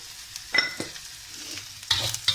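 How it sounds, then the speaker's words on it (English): Onions stir-frying in ghee in a pan for Kerala-style lobster masala, a soft close sizzle broken by a few sharp scrapes and clacks of the spatula, with no talk. "continue to stir fry this until it turns into a light brown"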